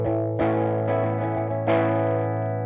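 Distorted electric guitar heard through the cabinet models of a Universal Audio Woodrow 55 amp plugin, with thick sustained chords struck about four times, each attack ringing out loud and close with no talking.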